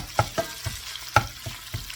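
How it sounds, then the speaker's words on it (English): Ground pork sizzles and fries in a hot pan over high heat, with several sharp scraping stirs of a utensil landing in an uneven rhythm over a steady close-up crackle. "give the ground pork a nice sizzle stir"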